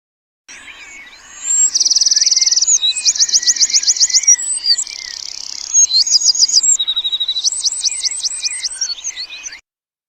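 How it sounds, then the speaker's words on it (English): Wren song played in reverse: a loud, close sequence of fast trills and buzzy rattling phrases, pausing briefly between bursts, with no other sounds. "It's going to be a wren."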